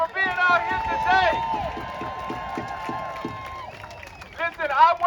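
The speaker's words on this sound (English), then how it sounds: "Give yourselves a big, loud, roaring cheer for being out here today." A May Day rally crowd cheers and claps loudly, a sustained roar of voices and applause with whistles and shouts rising and falling throughout.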